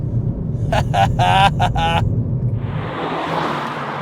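A BMW E46 M3 runs on a racetrack through a turn, its engine a steady low rumble under a man's speech before a rising whoosh of wind and road noise takes over.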